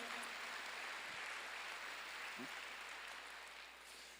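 Church congregation clapping during a Korean sermon at a Wednesday worship service, a steady, faint wash of applause across the whole stretch.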